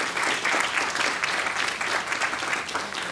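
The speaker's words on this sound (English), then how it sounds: "So give them a round of applause as well." Steady audience applause at a formal event releasing a draft constitution, dense clapping sustained at even loudness throughout without pause.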